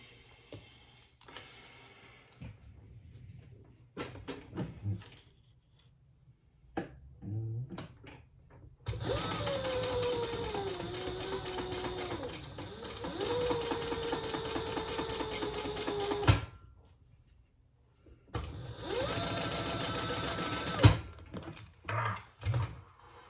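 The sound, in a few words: sewing machine stitching bag pieces together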